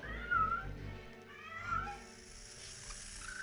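A cat meows twice inside the computer game Tex Murphy: Overseer (1998, Access Software), sounding as clear, mid-loud calls over a steady low background hum.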